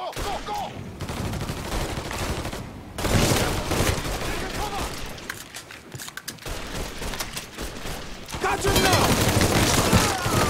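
Dense, loud bursts of automatic gunfire in the Mafia 3 video game, sustained rattling volleys and heavy shots that swell and fade across the stretch, with shouted voices mixed in.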